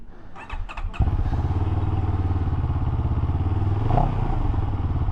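A 2023 CFMoto 700CL-X motorcycle engine catches after a few clattery clicks and settles into a loud, steady idle rumble up close, with a brief rev swell partway through.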